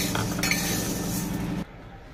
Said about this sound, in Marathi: इथे मी हा साबुदाणा छान असा भाजून घेते